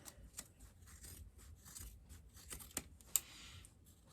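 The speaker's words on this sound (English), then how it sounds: "And then snipping the corners there." Scissors snip the corners of fabric while a crossbody bag is being sewn, a few faint, quiet cuts and crisp clicks spaced irregularly, with one sharper snip near the end.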